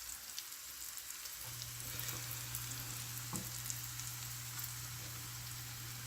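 Onions and all-purpose flour sizzle and crackle softly in a pan as they are stirred for a gravy, a steady frying hiss with occasional scrapes and a low hum underneath.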